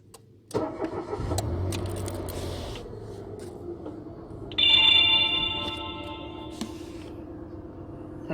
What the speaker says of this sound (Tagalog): start na natin yung sasakyan